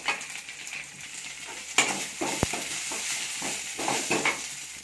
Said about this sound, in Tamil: இப்போ பாருங்கள் கீரை நான் நல்லா வதக்கிட்டேன்